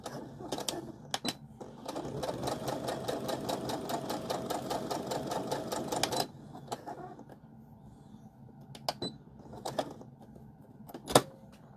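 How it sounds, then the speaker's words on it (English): Sewing machine stitching a fabric casserole carrier, a steady rapid run of needle strokes for about six seconds, then stopping, followed by a few scattered clicks and handling knocks. "We're going to sew across, down a little bit, and then back across."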